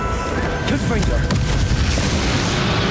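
Confringo spell explosion in the video game Hogwarts Legacy, a deep booming blast with a rumbling low tail lasting a few seconds, loud and close.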